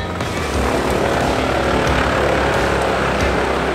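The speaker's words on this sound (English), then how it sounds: "We're using a Bandit 3090 track machine" A Bandit 3090 tracked wood chipper runs at a steady, loud, dense drone with no breaks, heard close and without speech.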